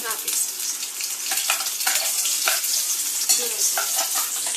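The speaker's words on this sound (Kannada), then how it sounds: "ಪೇಸ್ಟ್ ಹಾಕೊಂಡು ಚೆನ್ನಾಗಿ ಫ್ರೈ ಮಾಡ್ಕೊಳ್ಳಿ" Ground crab masala paste frying in oil at home, with a loud, bright continuous sizzle broken by repeated scraping stirs of a spoon against the pan, close up and with no voices.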